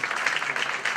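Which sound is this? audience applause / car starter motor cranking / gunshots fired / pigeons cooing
audience applause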